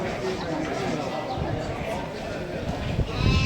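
An orphan lamb bleats at a livestock sale, its cries mixed into a busy crowd with people talking close by throughout.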